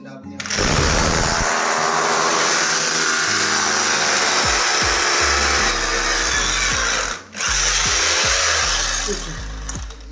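A power drill bores holes into a floor for anti-termite treatment. It whines loudly and continuously for about ten seconds, briefly dropping off and restarting midway, while someone speaks over the noise.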